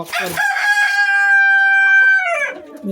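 A breeder rooster on a backyard farm lets out one loud, close crow, a long sustained call that rises, holds steady and trails off, with no one talking.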